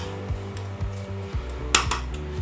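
Spoon scraping and clinking against a pot while stirring red cabbage with apples and walnuts, a few metallic knocks over a steady low hum.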